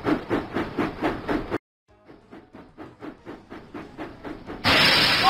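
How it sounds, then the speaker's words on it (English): Rhythmic chuffing steam puffs of a cartoon steam locomotive in a Thomas & Friends video game, a loud run of even beats, a short gap, then softer regular puffs before a sudden burst of steam hiss. "James puffed proudly into Knapford Station."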